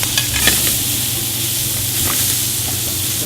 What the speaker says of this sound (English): So I'm gonna flip my shrimp, add the peppers, onions, and garlic.